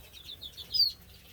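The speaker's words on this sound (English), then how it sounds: "here I have my siskins" Small finches in an outdoor aviary, siskins flitting about with a few soft wingbeat flutters and a short high chirp, close and faint, lasting only a moment.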